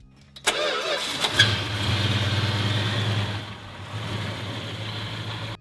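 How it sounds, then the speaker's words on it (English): A 1960s Australian sedan's 273 cubic inch small-block V8 cranks briefly and fires, then settles into a steady, rumbling idle close by. "Under that formal, flat bonnet was a gift from the States, the 273 cubic inch V8,"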